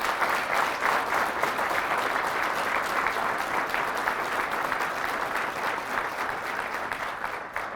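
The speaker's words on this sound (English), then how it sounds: "join me in a round of applause for the family and friends of the Mike Company officers and drill instructors" Sustained applause from a large audience at a Mike Company, 3rd Recruit Training Battalion recruit graduation ceremony, dense steady clapping filling the whole stretch at an even loudness with no speech over it.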